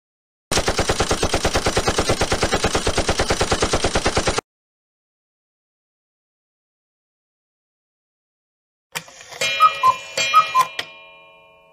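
Rapid automatic gunfire in a zombie shooting video game, a steady loud burst of evenly spaced shots for about four seconds, then silence, then a few scattered clicks and clanks.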